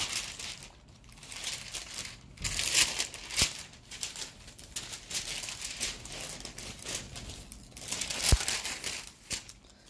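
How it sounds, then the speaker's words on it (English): Parchment paper crinkling and rustling as it is cut during diamond painting, with irregular close crackles and a few sharp snips spread over several seconds, no talking. "Sorry if you can hear the parchment paper"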